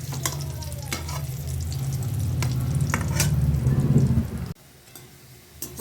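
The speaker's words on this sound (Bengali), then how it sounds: "এবারে বেসনের বড়াটা আমি ছাড়ছি।" Besan (gram flour) fritters fry in hot oil with a steady close sizzle and scattered crackles and stirring knocks, then the frying sound cuts away to quieter room noise.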